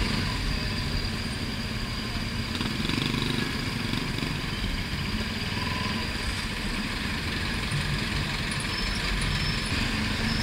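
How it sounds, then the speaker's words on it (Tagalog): Road traffic in the Philippines, heard from a stop beside a 2017 RS200 motorcycle, with idling engines and a motorcycle droning in a steady, dense rumble and no clear voices. "Traffic po."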